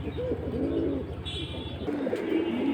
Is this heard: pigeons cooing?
yes